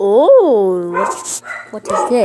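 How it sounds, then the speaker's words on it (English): A dog in the Roblox Jailbreak video game gives a whining yelp and short barks, close and loud, mixed with a person talking. "Their dog's barking."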